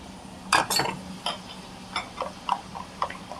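A spice mixture with a little sugar for keema chole masala is whisked in a bowl, giving a quick run of light metallic clinks and ticks at an uneven rhythm, close and fairly quiet.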